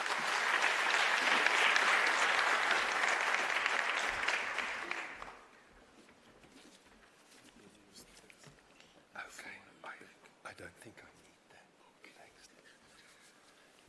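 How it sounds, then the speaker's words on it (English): An audience at a youth trade convention applauds loudly and steadily for several seconds as a speaker is welcomed on stage, then the clapping drops off sharply, leaving quiet room noise with a few soft rustles and murmurs. "Can you please welcome on stage by giving him a round of applause?"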